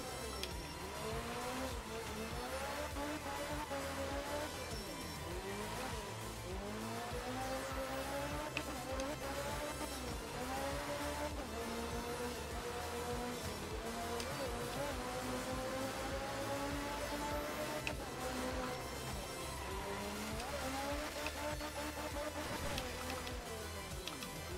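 A Group S rally car is driven through a Japan stage in a racing game, its engine holding a steady rising and falling drone with repeated gear shifts and revs over about twenty-five seconds, loud and continuous.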